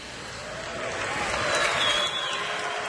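Scattered applause from an awards show audience, a broad steady wash of clapping in a large hall that swells slightly midway and holds for a few seconds.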